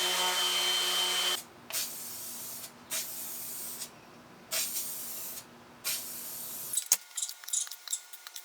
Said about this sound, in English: So we just painted all of the pieces that need to be painted black, and I just spray painted those.